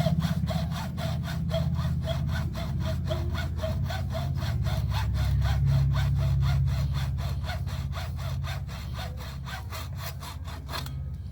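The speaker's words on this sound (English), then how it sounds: "This is just a standard hacksaw" Steady back-and-forth sawing with a standard hacksaw through the plastic of an FJ Cruiser steering wheel audio control, fast even strokes repeating throughout at close range, no voices.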